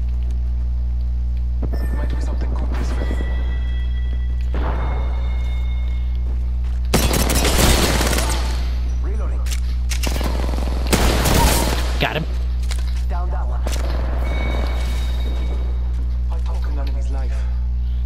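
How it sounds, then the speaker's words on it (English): Bursts of gunfire in Apex Legends: two heavy, loud rapid-fire volleys a few seconds apart stand out over a steady low hum, with smaller distant shots and player voices talking around them. "I see the gunfire, too."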